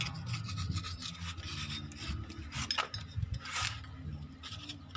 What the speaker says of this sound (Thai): ขุดเศษดินออกด้วยครับ